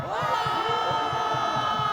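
A large crowd at a political rally in Daegu roars and shouts together in a sustained, dense cheer, heard at a distance and moderately loud.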